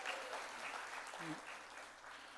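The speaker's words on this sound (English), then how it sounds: "How about a round of applause for Tiffany and Lisa Black?" Convocation audience applauding, sustained crowd clapping heard faint and somewhat distant, with a brief voice murmuring faintly underneath.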